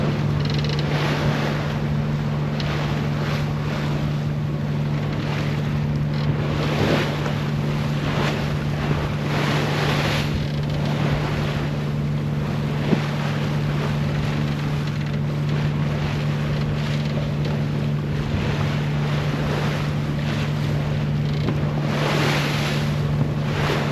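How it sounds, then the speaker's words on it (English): A fast boat crosses Pacific ocean swells near Punta Mita, Mexico, with a loud, steady engine drone under constant wind buffeting and rushing water, unbroken for the whole stretch and with no voices. "That's a fast boat."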